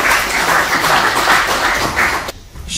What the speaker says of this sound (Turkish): Şair Mustafa Uçurum'u alkışlarla davet ediyorum.